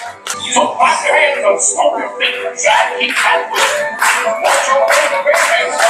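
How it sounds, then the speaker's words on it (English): Crowd of guests clapping in a rhythmic, steady beat at Magic Kingdom, Walt Disney World, loud and close, with voices and chatter mixed in throughout. "We're clapping!"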